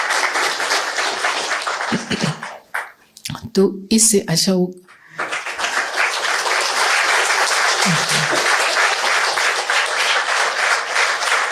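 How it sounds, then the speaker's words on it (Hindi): An audience at a spiritual talk bursts into sustained, dense applause, which drops away briefly while someone speaks, then swells back into loud, steady clapping. "ताली बजाइए इनके लिए"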